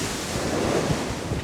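Storm waves crash against the sea wall at Dawlish in a loud, continuous roar of surf mixed with heavy wind buffeting the microphone.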